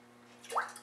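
Soy sauce drips into a tablespoon, a single faint, brief liquid plip in an otherwise quiet kitchen with a low steady hum.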